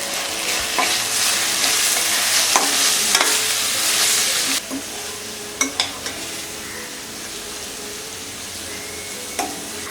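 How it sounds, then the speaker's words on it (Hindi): Spices with garam masala and salt frying in oil for an aloo hara chana curry, a loud steady sizzle with utensil scrapes and taps of stirring that eases to a quieter sizzle halfway through. "मसाले अच्छी तरह फ्राई हो गए हैं और ये ऑयल सेपरेट होने लगा है।"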